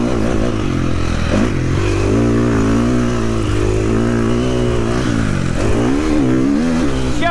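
A motocross motorcycle on a dirt track revs and shifts gears continuously, a loud, close, buzzing engine note rising and falling with throttle and braking, with no talk.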